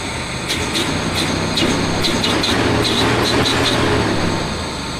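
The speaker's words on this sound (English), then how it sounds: "Now rev it up." A 2005 Jeep Wrangler Rubicon engine runs loud and close with a deep, steady droning hum, while sharp ticking clicks are scattered over the top for several seconds.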